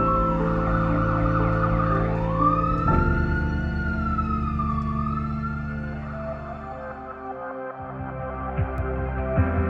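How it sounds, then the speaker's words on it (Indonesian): An emergency siren wails with rising and falling tones as it passes, over steady traffic rumble; the siren fades out partway through. "Hanya terdengar suara sirine yang sibuk berlalu lalang."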